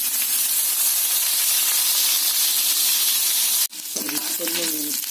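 Lentils dropped into hot oil in a pan while making rava dosa with curry leaves and spinach, a loud, steady hissing sizzle that breaks off suddenly and returns with clattering stirring and softer frying.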